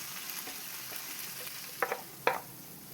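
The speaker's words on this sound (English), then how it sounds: "The sizzling sound is coming up." Low, steady sizzling of vegetables frying in butter in a pan, with a couple of brief louder clatters near the end.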